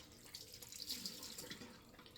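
Water from a faucet runs steadily into a bathroom sink with no stopper in place, a soft continuous splashing hiss heard close up and alone, with no talking.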